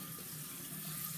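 Water runs steadily from a sink tap during face washing, a constant soft hiss with no pauses and no voices.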